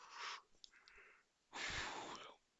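A person gives two long, breathy yawns, the first short and the second drawn out and louder, close to the microphone with a faint murmur between them.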